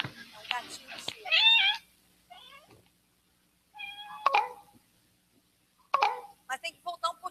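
Several short cat meows come in separate bursts with quiet gaps between them, fairly close and clear, ending in a quick run of brief chirpy calls.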